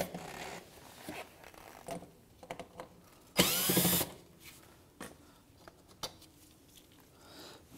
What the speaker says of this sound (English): We're going to go ahead and take the Phillips screws out now,